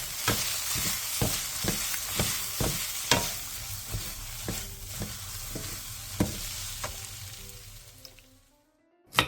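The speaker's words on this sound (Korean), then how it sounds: "쫑쫑 썬 대파와 들기름 반스푼, 후추, 통깨를 넣고 1분 정도 가볍게 더 볶아 마무리해주세요" Potatoes stir-fried with chopped green onion, a half spoon of perilla oil, pepper and sesame seeds, giving a steady close sizzle under repeated sharp clacks of a utensil stirring in the pan, ending in brief silence.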